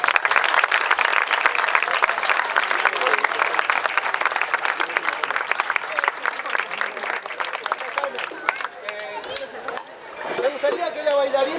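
Audience applause at a folk drumming and dance performance of La Cuerda del Moreno in San Javier, loud dense clapping that fades out toward the end with crowd chatter underneath.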